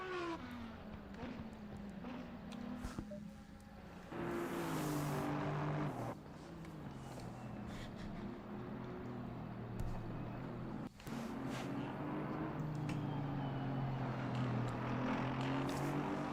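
GT3 race cars run bunched together in a sim racing game at Oulton Park, a continuous loud engine drone that rises and falls as the cars shift and pass, with no talk.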